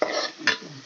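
Egg recipe ingredients fry over a medium flame in a brief burst of close sizzle, with a quick stir scrape in the middle before the sound settles.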